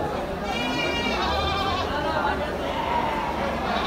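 Goats at a crowded goat market bleat repeatedly over a dense background of people chattering, with several overlapping calls rising above the steady crowd noise.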